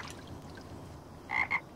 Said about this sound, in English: Aw, look, a frog.